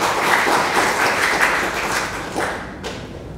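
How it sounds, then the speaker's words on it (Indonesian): A church congregation applauds during a sermon, a dense wash of many hands clapping that swells and then fades, heard on its own without talk. "Kasih tepuk tangan untuk Tuhan Yesus."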